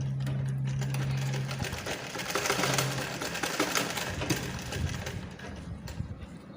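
A sewing machine stitches blouse fabric with a steady, rapid mechanical whir that runs continuously up close, easing slightly toward the end, with no talking.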